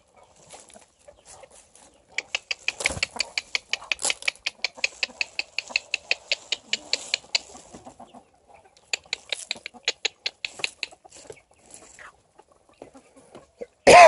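Free-range chickens and a rooster in Çağlarca, Antalya clucking close by in rapid bursts of sharp calls, repeated in quick runs with short pauses between.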